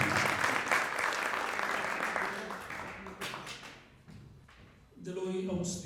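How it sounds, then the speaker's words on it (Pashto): Audience applause at a community gathering welcoming a speaker: a dense wash of clapping that swells, then thins and fades over several seconds before a voice takes over near the end. "چکچک له قوي ورته کوي"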